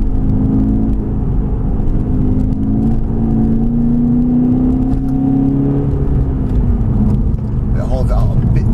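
A VW Scirocco 2.0 TDI with 175 bhp and a tuning remap accelerates in sport mode, heard from inside the cabin. The diesel engine drones steadily as its pitch rises, then drops at a gear change.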